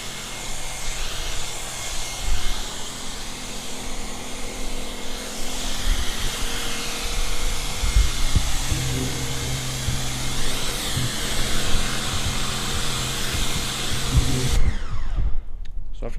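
Pressure washer rinsing down a car: a loud, steady high-pressure spray hiss with a constant motor hum throughout, cutting off abruptly near the end.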